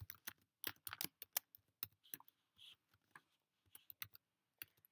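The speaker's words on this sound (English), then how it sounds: "or you could just start typing" Computer keyboard typing: a quick, irregular run of crisp key clicks with brief pauses, close and fairly quiet, with no talking.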